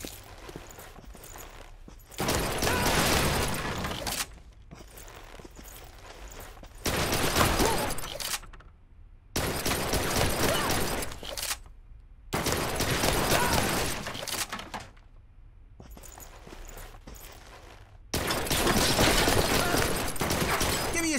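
Gunfire in the video game Blue Estate: repeated loud volleys of rapid shots, each lasting a couple of seconds, alternating with quieter stretches of lighter firing over about twenty seconds.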